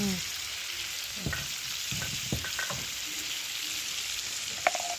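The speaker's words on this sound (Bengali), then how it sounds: "আলুটা ভেজে নিচ্ছে" Potatoes frying in oil over an outdoor wood fire, a soft steady sizzle with a few scattered scraping stirs and a faint clink, no talking.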